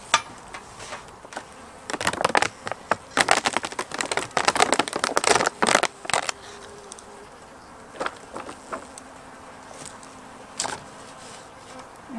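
Honeybees buzzing inside an opened hive in autumn, a calm low drone with bursts of louder close buzzing and scattered crackles of movement.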